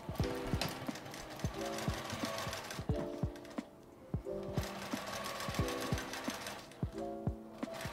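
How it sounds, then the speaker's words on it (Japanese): A sewing machine stitches fabric strips for a shoulder strap, a close, rapid mechanical chatter that runs in several bursts with short pauses and restarts between them. "ここを縫います。"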